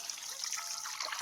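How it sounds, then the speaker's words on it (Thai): Vegetables are rinsed under a running water tap, giving a faint, steady trickle and splash of water that continues throughout with no talking. "ล้างผักก่อน"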